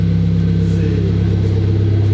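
A Renault RS car idles close by with a loud, deep, steady engine rumble that holds a constant throbbing pulse the whole time, with no talking over it.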